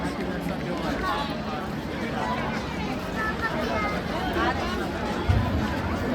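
Thick, continuous murmur of a large gathering at the Goda Maha Aarti riverside ceremony in Nashik, overlapping voices blending into a steady wash with a brief bump near the end.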